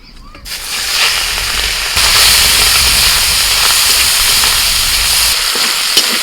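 Prawns frying lightly in hot oil in a home kitchen, a steady broadband sizzle and hiss that holds for several seconds, close and fairly loud, rising slightly after the start with no talk over it.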